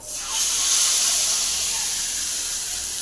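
Hot oil tempering with fried vadagam poured into gongura (sorrel leaf) thokku, a loud sudden hissing sizzle that swells in and holds steady for a few seconds, close by and without talk.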